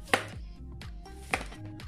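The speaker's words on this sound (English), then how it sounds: "I'm just going to cut in some chunks so we can add to our pot." A kitchen knife chops peeled dasheen into chunks on a cutting board for a Jamaican chicken back and foot pumpkin soup, with two sharp, close knocks about a second apart and quiet gaps between.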